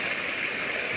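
Soft, steady rushing of a creek flowing at night, an even watery hiss with no voices.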